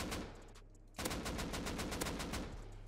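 An AK rifle in Rust is sprayed at bots in long, fast automatic bursts: a brief stream of shots, a short pause, then a steady uninterrupted string of loud rapid cracks.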